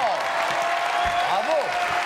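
Studio audience applause on a French TV show, a continuous patter of clapping with voices and tonal sounds over it.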